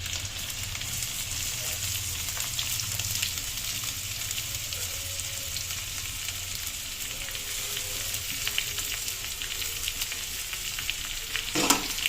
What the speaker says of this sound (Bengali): এবার এটা একটু লাল লাল মত করে ভেজে নেব